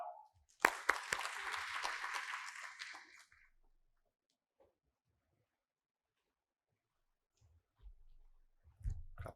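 An audience applauds in welcome of an institute chairman at a Thai corporate CSR event, a dense burst of clapping that swells, holds for about three seconds and fades to quiet, with faint movement afterward.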